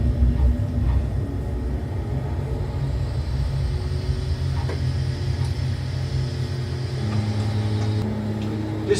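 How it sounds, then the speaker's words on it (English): A Twin Otter aircraft taxis in a flight simulator game, giving a steady low propeller and engine rumble with a faint high whine above it. The drone stays even throughout, and no one speaks over it. "This Twin Otter doesn't taxi very well."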